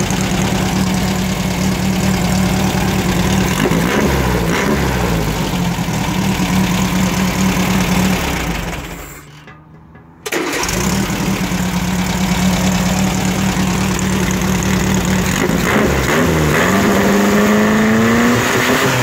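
Volkswagen 1600 air-cooled engine, a local build boosted with spring kits, running steadily at idle with a loud, even drone; the sound briefly drops out near the middle before resuming at the same level.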